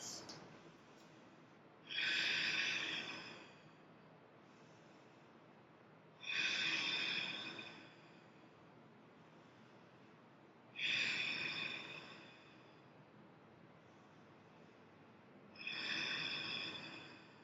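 Slow, deep breaths during a back-strengthening yoga flow, four long airy exhales spaced about four seconds apart over quiet room tone, close to the microphone with no talking.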